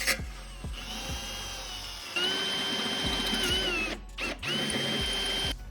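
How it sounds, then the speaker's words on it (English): A power drill bores a bolt hole for a rear tow hook on a Ford Fiesta ST, its motor whining steadily through a run of several seconds with short pauses near the end; no one speaks. "We still gotta drill that back hole."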